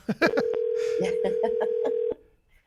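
A steady telephone tone holds for about two seconds during an outgoing phone call, then cuts off abruptly; voices talk faintly over it.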